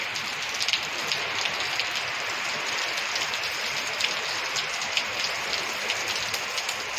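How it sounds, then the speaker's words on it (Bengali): Heavy morning rain falls without pause, a thick close roar of water on surfaces punctuated by scattered louder drips and splashes, no speech. "অনেকদিন পর এরকম সকালবেলায় বৃষ্টি শুরু হয়েছে"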